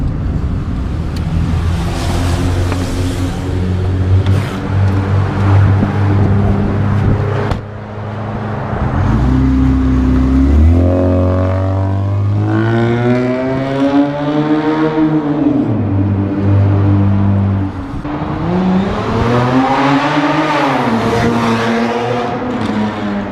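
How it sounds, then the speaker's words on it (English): A Honda car with an aftermarket exhaust revs and accelerates beneath a bridge underpass, its loud droning engine note rising and falling in long sweeps while the echo off the concrete fills the space. "We're going to do just a quick underpass pull, just so you guys can hear what it sounds like when it's all like under a bridge."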